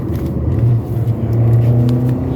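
A petrol car accelerates in second gear from about 50 km/h, its engine note a steady, loud droning rumble that rises slightly in pitch throughout, heard from inside the cabin with no talking.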